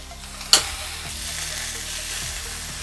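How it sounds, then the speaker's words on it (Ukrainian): Steady hissing sizzle of vegetables frying in a pan for chicken curry, with a sharp clink of a utensil early and soft scraping stirs. "Також смажимо пару хвилин."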